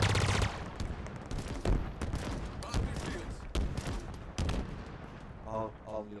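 Assault rifle fire in the Halo Infinite video game, several rapid bursts of shots close up, heard with other battle sounds under faint talk.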